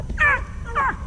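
A hunting dog on a rabbit hunt in North Carolina gives two short, sharp yelping barks in quick succession, close and loud, with outdoor background.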